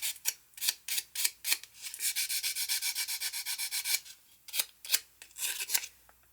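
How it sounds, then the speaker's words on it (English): Wire-wrapped jewelry is hand-sanded with 400 grit sandpaper in short, quiet rubbing strokes, with a quicker continuous run of strokes in the middle and scattered strokes at either end. "Now I'm going to go over it again with 400 grit just to smooth it out a little bit more."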